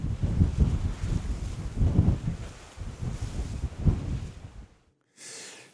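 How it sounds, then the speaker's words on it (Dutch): Strong, gusty wind buffets the microphone in heavy, roaring surges that rise and fall for several seconds, then drops off sharply before a short, fainter hiss; no one speaks. "Je komt speciaal hier naartoe omdat het zo lekker hard waait."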